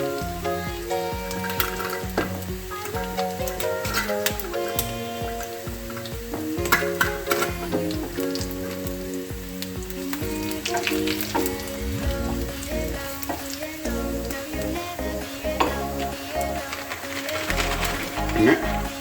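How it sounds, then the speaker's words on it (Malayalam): Cut dried red chillies fry in hot oil in a pan for a potato and peas curry, giving a steady sizzle with light stirring clicks, heard beneath a person talking. "ഇതിനകത്തേക്ക് 2 വറ്റൽമുളക് മുറിച്ചത് ഇട്ട് കൊടുക്കാം."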